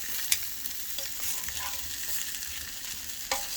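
Dried fish frying in a small amount of hot oil, a close, steady crackling sizzle with a couple of sharp pops, alone without talk.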